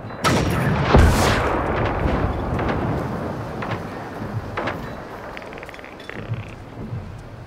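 Heavy gunfire and explosive blasts in the video game Generation Zero, a loud booming shot followed by rolling rumble and wind-like noise, with a few scattered fainter shots afterward.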